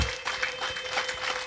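Audience applause at a gathering, a brief, steady wash of clapping with a faint tone running underneath.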